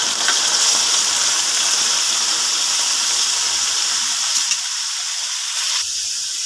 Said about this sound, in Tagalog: Ilagay na atay at saka balon-balon na.